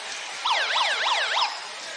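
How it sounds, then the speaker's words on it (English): Electronic emergency-style siren blaring through a basketball arena during a college game, a wailing up-and-down tone repeating about four times over crowd ambience. "we got sirens in here and everything."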